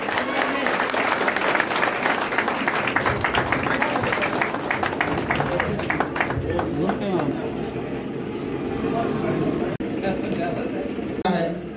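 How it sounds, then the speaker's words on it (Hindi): Sustained applause from an audience at an award ceremony honoring a powerlifting world champion, dense rhythmic clapping that gradually thins out, mixed with crowd noise and voices over about twelve seconds. "और ताली थोड़ा जोरदार बजते रहनी चाहिए।"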